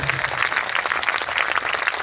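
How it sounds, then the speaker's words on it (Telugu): A church congregation claps hands together in a dense, steady patter that fills the whole moment, loud and continuous with no pause. "చప్పట్లు కొట్టండి బిడ్డ"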